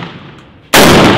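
A single loud, sharp gunshot from a SCAR combat assault rifle fired at an outdoor shooting range, cracking abruptly after a quiet moment, with a short ringing tail.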